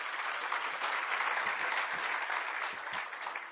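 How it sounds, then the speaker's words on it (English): An audience applauding at a formal event, steady dense clapping sustained for a few seconds before tapering slightly at the end, with no voices over it. "let's give them a good round of applause"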